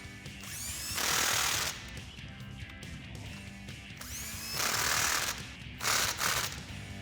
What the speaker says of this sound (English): we can reinstall our wheel and torque our lug nuts to 150 foot-pounds